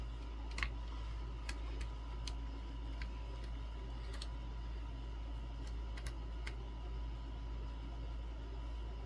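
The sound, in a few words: peeling protective plastic off a Conbola fan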